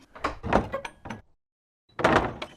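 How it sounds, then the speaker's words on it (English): Door of an old farmhouse, heard in two bursts of rattling, creaking and sliding wood, close and fairly loud, with a short silence between, no voices. "knocked on the door, then went inside"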